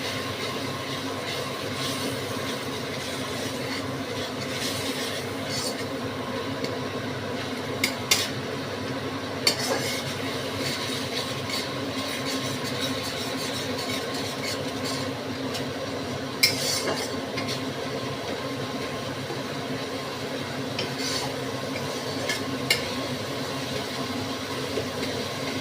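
Masala frying with added water in a pan while being stirred, steady low sizzle with occasional metal spoon scrapes and clinks against the pan, continuous through the clip.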